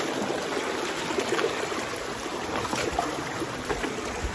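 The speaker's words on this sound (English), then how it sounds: "there's even a water flow right here" A small stream of water flows over slippery rocks on a hike, a steady close rushing and trickling wash without pauses or voices.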